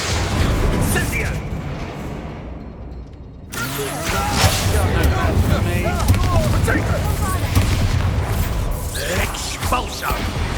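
A fire spell erupts during combat in the wizarding game Hogwarts Legacy, a loud roaring, booming burst that swells after a brief lull and sustains amid battle noise, with voices talking over it.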